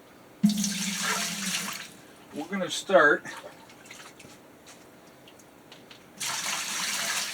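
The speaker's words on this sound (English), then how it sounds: "just putting that water in here so that it can be filtered" Rainwater scooped with cups and poured into a Royal Berkey gravity water filter, heard as close, splashy pours at the start and end with someone talking in between.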